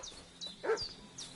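A dog barks a few times in the medieval village world of Kingdom Come: Deliverance, fairly faint and set against steady ambient background sound.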